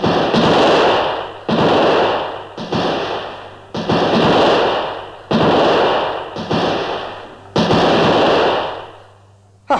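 Gunfire effects in an audio drama battle scene: about eight loud, close shots booming at a steady pace, each trailing off into a long echoing decay before the next.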